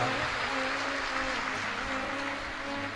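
Steady, dense applause from a crowd at a Shiv Mahapuran religious discourse, sustained and fairly loud throughout with a faint tonal hum underneath.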